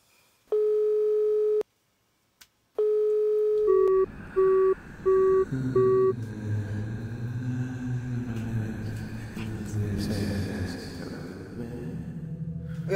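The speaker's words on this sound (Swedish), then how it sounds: "Jag ringer Simon" A phone line tone sounds while someone places a call from a locked building: two long steady tones separated by a pause, then short repeated beeps, followed by rumbling background noise.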